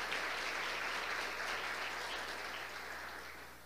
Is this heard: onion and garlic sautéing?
no